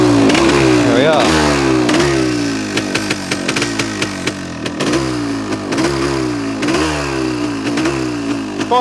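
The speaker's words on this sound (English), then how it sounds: "Quite an aggressive two-stroke." A 1974 Yamaha DT400 Enduro two-stroke motorcycle engine revs hard and close, its crackling, buzzing note rising and falling in repeated aggressive throttle blips with someone talking over it.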